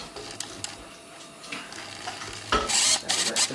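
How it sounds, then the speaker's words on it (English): A spoon scrapes and stirs a lumpy soufflé sauce in a pan, making close, repeated rasping strokes that grow louder toward the end. "if you keep stirring away, it will smooth right out"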